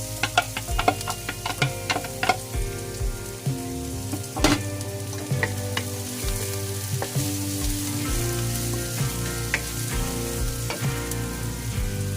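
Garlic fries in a pan with vegetables, a steady sizzling hiss with quick ticking clicks and utensil taps, over a faint constant tonal hum.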